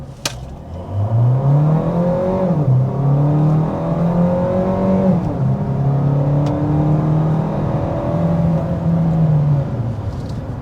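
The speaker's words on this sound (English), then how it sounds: "that was an acceleration up to 60 miles per hour" A 2024 Hyundai Sonata Limited hybrid revs up steadily under hard acceleration to 60 mph, its pitch climbing through several gear shifts, loud and close throughout.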